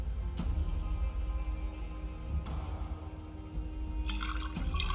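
Water pours steadily into a small watering can holding about 38 litres in a Project Zomboid game scene, a continuous close filling rush with brief splashy bursts near the end, no talking.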